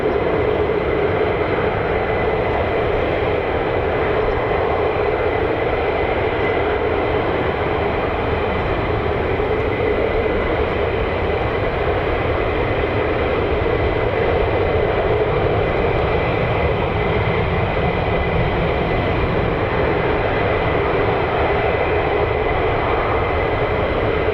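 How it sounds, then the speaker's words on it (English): F-35 fighter jets taxi across the runway at RAF Lakenheath, giving a continuous loud engine roar and whine that holds steady throughout with no speech. "F-35s, here they are, crossing the runway."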